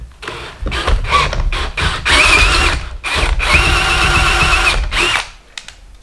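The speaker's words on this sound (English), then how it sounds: "Drill in reverse. And just run that." A power drill with an auger bit, run in reverse into timber, whirs loudly in bursts, starting and stopping several times with a steady mechanical whine, close by.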